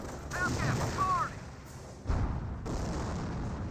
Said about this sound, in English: Third explosion, but I'm not sure what that was.